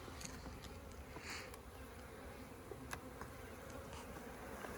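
Honey bees buzz in a hive during a beekeeping inspection, a faint continuous drone with occasional louder passes of individual bees.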